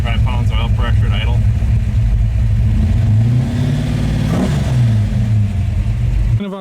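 A 1957 Chevy engine breathes through 3-inch exhaust with Pipes Violator mufflers, idling with a deep, loud, close rumble and then swelling into a rev before settling back, with someone talking over it.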